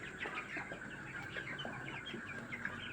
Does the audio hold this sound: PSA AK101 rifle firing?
no